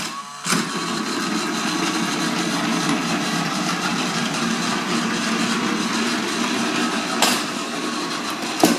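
A small motor whirs steadily with a continuous rattling hum, punctuated by a couple of sharp clicks, as a TOMY Plarail S-01 toy bullet train runs along plastic track at its lowest speed setting.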